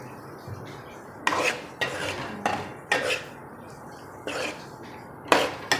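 Beef liver mixed with cumin powder on a tawa: repeated sharp metal spatula scrapes and clinks against the pan, about seven strokes at an uneven pace, close and clear.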